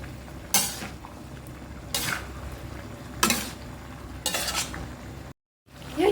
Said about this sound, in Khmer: យើងឆាស្នៀតពោតចាំសិន